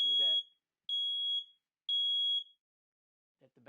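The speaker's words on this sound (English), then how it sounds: "The smoke detector should be tested weekly. To test it, there's a button here that you press right here. Just press it. It goes through a series of beeps." An RV smoke detector in a Newmar Supreme Aire motorhome sounds three loud, steady high-pitched test beeps, each about half a second long and evenly spaced, with brief talk before them and again at the end.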